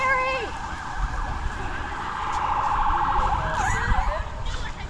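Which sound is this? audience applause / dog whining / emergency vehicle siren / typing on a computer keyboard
emergency vehicle siren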